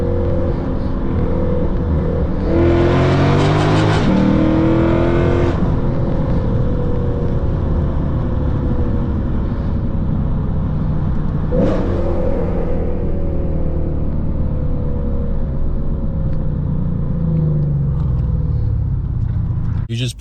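Full bolt-on Lexus RC F pulling hard on country backroads, a loud continuous engine roar with rising revs and several gear-change sweeps, steady and close throughout.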